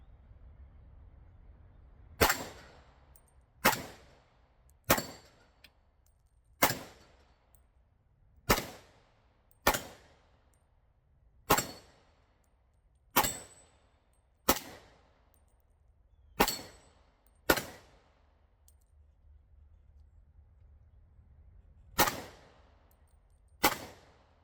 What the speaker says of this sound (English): we'll do a few shots on the plate rack on film